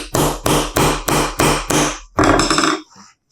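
Six even mallet strikes drive tapered pinch dogs into freshly glued curved wood pieces on a workbench, each blow sharp and close. A final heavier, longer knock follows.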